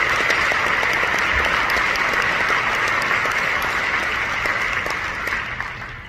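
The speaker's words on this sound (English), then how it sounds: "Give that a round of applause." A conference audience claps loudly and continuously, a dense wash of applause that holds strong before starting to thin out near the end.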